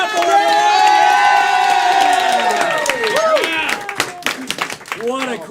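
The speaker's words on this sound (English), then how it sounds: "let's keep that applause going for our players and all our awesome volunteers" A comedy-show crowd at First Coast Comedy cheers and whoops loudly with sustained shouting voices, then breaks into scattered clapping and shouts as the noise thins toward the end.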